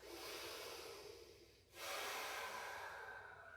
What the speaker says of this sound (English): Twice more, breath in. Big exhale.